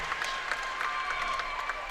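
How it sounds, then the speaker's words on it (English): A crowd in a gymnastics arena at the Dunkin Donuts Center applauds in a dense, steady wash of clapping that fills the whole brief moment, with a faint tone running through it. "You can hear the crowd responding to that here inside the Dunkin Donuts Center."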